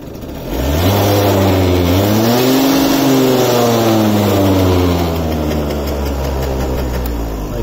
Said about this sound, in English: I'll start it up for you as well. I think you probably nearly even hear the power.